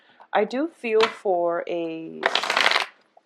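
Tarot cards are shuffled close by in a brief crisp riffling burst that follows a woman's speech.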